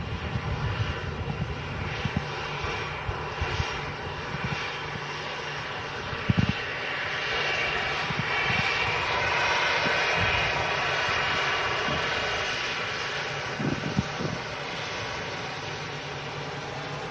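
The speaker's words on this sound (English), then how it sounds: "See quite a bit of moisture coming up off the back left wheel there as the aircraft vacates." Airliner engine roar at Manchester Airport as a plane rolls along a wet runway and vacates, a steady loud drone that swells in the middle, with a few faint thumps.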